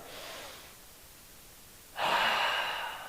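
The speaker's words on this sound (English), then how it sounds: "Let's breathe now." Two audible breaths during a guided exercise class, a soft exhale followed by a louder, longer one, close and unaccompanied by talk.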